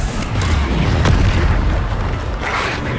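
A Bombarda spell explosion in Hogwarts Legacy lands as a loud, deep boom with a rumbling tail that fades over a few seconds and no talk.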